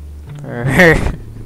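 A single loud cat meow from the video game Lone Survivor, a short rising-then-falling cry over a low background hum.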